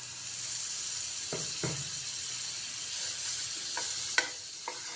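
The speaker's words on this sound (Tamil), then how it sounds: "தோசைக்கல் காய போட்டிருக்கேன். கொஞ்சமாக வெண்ணெய் போட்டுக்கலாம்." Butter sizzles softly on a hot dosa griddle, a steady hiss with a few sharp clicks and scrapes from a utensil.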